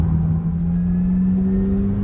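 A McLaren GT sports car in track mode holds a steady, close engine drone that climbs slightly in pitch as it accelerates, with no talk.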